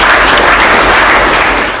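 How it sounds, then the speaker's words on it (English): Loud, dense applause from an audience at a Dawn High School event, a close, continuous roar of many hands clapping that fills the short stretch and begins to fade at the end. "Give a huge round of applause."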